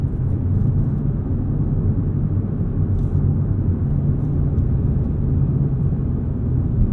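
Steady low road and tire roar inside a moving 2022 Hyundai Veloster N hot hatch, a continuous dull rumble filling the cabin with no talk over it.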